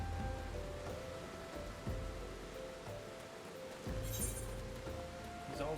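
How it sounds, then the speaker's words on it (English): Steady rain hisses in Final Fantasy XIV as a soft, continuous wash of noise, faint and even, with a few low thumps and tones from the game underneath. "Oh, it's raining."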